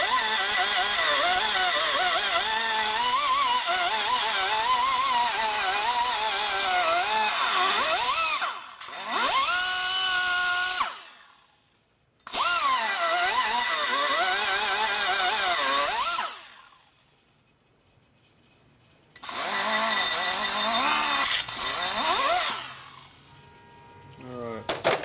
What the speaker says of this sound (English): so I'm going to do a little smoothing on this side now.